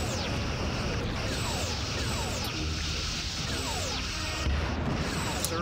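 Starship weapons and torpedoes fire in a Star Trek space battle game, loud steady rumbling explosions and impacts against shields with repeated sweeping zaps over a constant dense roar.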